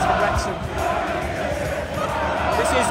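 Welsh football fans in a stadium crowd clapping at half time during a Wrexham match, a dense continuous roar of crowd noise with applause mixed in.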